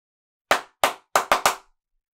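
Five sharp hand claps ring out close and loud in a quick pattern, with two spaced claps followed by a rapid burst of three, each with a short decaying tail in a quiet room.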